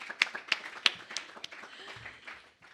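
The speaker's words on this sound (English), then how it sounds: "Let's give ourselves a round of applause." A few people at a presentation clap in scattered, uneven bursts, sharp and close, thinning out after a couple of seconds into quiet.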